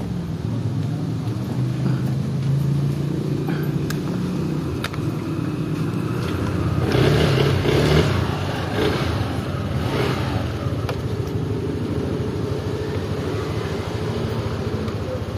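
A motorcycle engine runs nearby with a steady low rumble that swells louder for a moment midway before settling back to an even idle-like drone.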